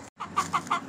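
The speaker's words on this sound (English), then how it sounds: "I'm just going to go check and see what's going on with the chickens" Chickens cluck in their backyard yard, a run of four or five short, close, moderately loud clucks in quick rhythm after a brief silent gap.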